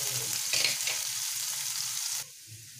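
Chopped ginger, garlic and green chillies sizzle and fry in hot oil in a pan, a steady close crackle with rhythmic stirring scrapes, the sizzle dropping away near the end.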